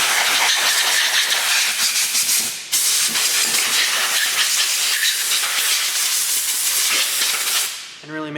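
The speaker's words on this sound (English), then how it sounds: "we can grab some compressed air here" Compressed air blasts over freshly cleaned Chevrolet 454 big block engine parts during a crankshaft replacement, a loud continuous hiss that breaks off briefly once and then runs on until it tapers away near the end, up close and with no talking.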